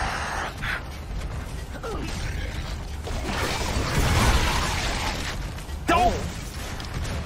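Heavy door mechanism grinding open in the video game Gears of War 3, creaking and clanking metallic movement with a louder rattling burst near the end, under intermittent character speech.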